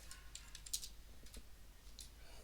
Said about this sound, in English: And here, for example, we can write James John,